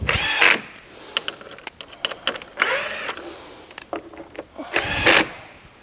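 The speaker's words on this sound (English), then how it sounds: "now I'm going to tighten these screws up on this back one that was a little loose" A handheld power drill runs in three loud bursts, tightening screws on the back of a DynaCon conveyor metal detector, with clicks and small clatters of handling between the runs.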